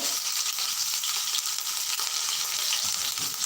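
Asafoetida and a crushed ginger, garlic and green chili paste sizzle in hot oil with a steady, close, continuous frying hiss, a little stirring audible beneath it.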